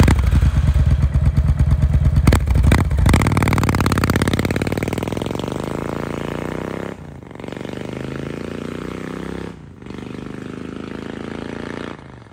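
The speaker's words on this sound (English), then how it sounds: "It looks like a Harley, sounds like a Harley," A motorcycle engine rumbles loudly and close by, revving briefly at first, then settling into a steady, throbbing idle with a couple of short dips.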